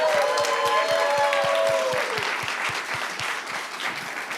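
Studio audience applause welcomes guest Andy Merrill onto a talk show stage: a steady, dense wash of clapping that carries throughout with rhythmic beats underneath, while a brief held musical tone fades out early.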